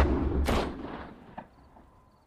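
A single loud gunshot from a film cracks out, followed by a fainter sharp report and a fading echo.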